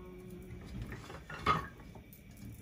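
Metal utensil scraping and clinking against a frying pan of potatoes in oil, with a brief louder clatter partway through, low kitchen noise throughout.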